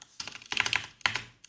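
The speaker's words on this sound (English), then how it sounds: "if we go up here and manually type in" Bursts of keystrokes on a computer keyboard, typed while entering a file path in a Windows 10 setup, come in three quick clusters, close and fairly clear with no talking.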